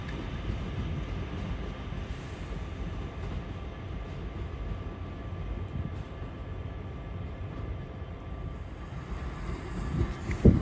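Northern class 323 electric train 323 229 pulling away from Crewe station, a steady rolling rumble with wheel and rail noise at moderate distance, no talk over it.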